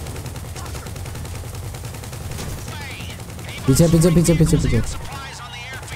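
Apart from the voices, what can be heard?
fully automatic machine gun fire in video game GTA Online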